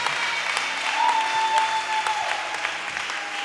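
Church congregation applauding during a worship service, a dense, steady burst of clapping from many hands filling the room, with a voice briefly heard underneath.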